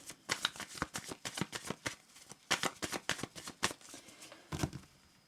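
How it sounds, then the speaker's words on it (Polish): Tarot cards being shuffled and cut, a rapid run of crisp papery riffles and slaps in bursts with short pauses, close up and alone. "Sobie przełożymy karty."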